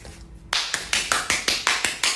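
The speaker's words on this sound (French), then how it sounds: "On t'applaudit" After a short pause, a single pair of hands claps close up in a slow, regular rhythm, about eight sharp, distinct claps.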